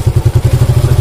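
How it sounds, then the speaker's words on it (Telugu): A motorcycle engine runs close by in a fast, even pulsing rhythm, a loud low throb with regular beats and no talking. "సో ఇప్పుడు చూడండి ఒకసారి, బైక్ సౌండ్ అనేది చేంజ్ అవుతూ వస్తుంది"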